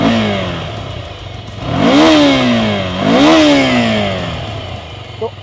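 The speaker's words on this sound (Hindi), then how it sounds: "the only thing between you and freedom is the rumble of a Ducati" A Ducati Scrambler 2G Full Throttle motorcycle revs twice, its engine rising and falling in two strong throttle blips over a steady idle rumble, close and loud.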